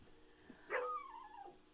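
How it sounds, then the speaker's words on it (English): Dogs outdoors give a brief whining yip and a rising, drawn-out whimpering call, moderately close and fairly quiet, as if asking to be let back inside. "And oh, my dogs are outside."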